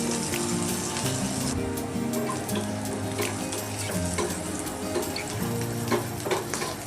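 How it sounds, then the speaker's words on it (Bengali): Bitter gourd pieces frying hard in oil in a pan for a Bengali shukto, giving a dense, close, continuous sizzle with faint clinks. No voices are heard. "উচ্ছেগুলো দিয়ে একটু কড়া করেই ভাজতে হবে উচ্ছেগুলো খুব ভালো করে একটু কড়া করে ভেজে নিলাম"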